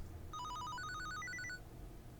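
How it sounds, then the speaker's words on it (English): A phone rings in a horror video game: a bright electronic trill of rapid pulsing notes that climb in pitch across a short burst, then stop, heard over a low rumbling ambient drone. "All of a sudden, his phone rings."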